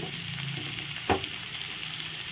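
Chopped garlic frying in a pan, a dense, steady sizzle running throughout with one brief scrape or clink near the middle, close and continuous with no talking.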